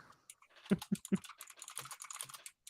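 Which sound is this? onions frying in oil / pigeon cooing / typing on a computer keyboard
typing on a computer keyboard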